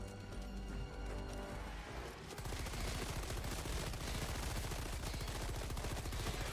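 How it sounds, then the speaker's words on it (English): Sustained, dense automatic gunfire from a bug-fighting video game, a steady rapid rattle of bullets that starts after a brief lead-in and stays loud to the end, with no talking. "Bullets, lots of bullets. We're solving the bug crisis with bullets."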